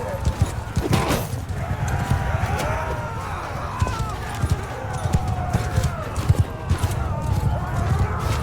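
Horse hooves clip-clopping at a run through a Mount and Blade II Bannerlord battle, steady hoofbeats mixed with clashing combat noise and shouts, with some talk over them throughout.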